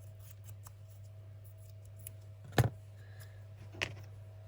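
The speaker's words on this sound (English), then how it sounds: "I think scissors are just easier." Scissors snip paper for a junk journal, giving two short crisp cuts about a second apart over a steady low hum, with no talk.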